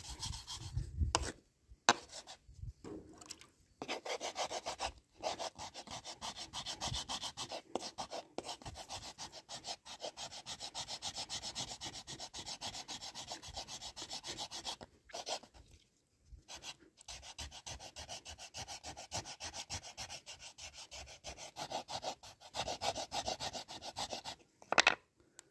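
Steady rubbing of paste against a stone at the Shankareshwar Mahadev temple in Sakurde, Purandar, Pune, a close, continuous gritty scraping in repeated strokes with a few brief pauses, no voices.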